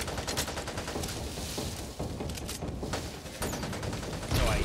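Rapid, continuous gunfire in the zombie shooter Back 4 Blood, a dense rattling fusillade of overlapping shots that runs the whole time and swells louder near the end.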